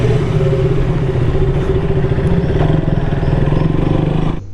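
A motorcycle rumbles steadily at close range with a loud, pulsing mid-speed engine note, riding through the entrance of City Palace in Udaipur, then dropping off at the end.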